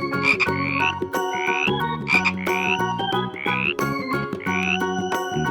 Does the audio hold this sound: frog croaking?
yes